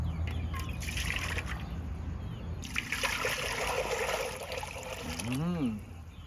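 Water pouring and trickling into a pot to be boiled in a kitchen, a steady splashing stream that runs for several seconds alongside a voice.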